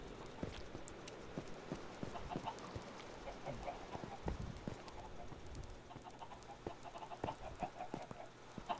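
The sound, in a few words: chickens clucking in a video game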